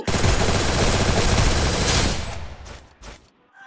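Gunfire in a mobile shooting game: a dense, loud burst of rapid shots fills most of the moment, then tails off into fainter scattered bangs.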